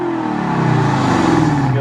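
The engine of a 2012 BMW 650i xDrive revs up, a loud, close, rising engine note that climbs steadily in pitch over a couple of seconds.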